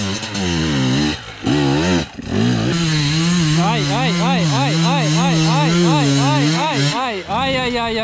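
A KTM or Husqvarna two-stroke dirt bike engine revs hard and close, its high buzzing whine rising and falling in rapid repeated blips after a couple of short cuts, with occasional voices.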